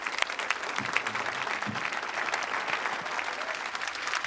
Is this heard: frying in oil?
no